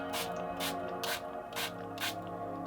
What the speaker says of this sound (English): I'm going to spray some water here now.